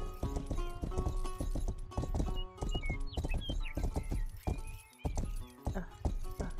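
Horse hooves clip-clop steadily in the Western video game Rustler while a rider travels, with a brief neigh or whinny and bits of game effects mixed in, close and fairly loud.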